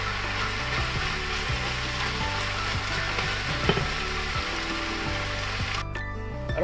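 Coarsely chopped tomatoes sizzle and fry in a pan, a steady dense crackle with occasional stirring scrapes and small pops throughout, close and alone with no talk, cutting off abruptly near the end.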